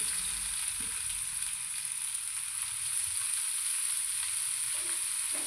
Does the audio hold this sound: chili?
yes